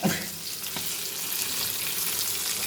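Fish sizzling and frying in a hot pan, a steady broadband crackle that fills the whole clip at close range, with no voices over it.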